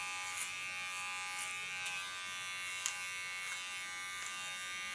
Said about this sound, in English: Take my light Skionic clipper.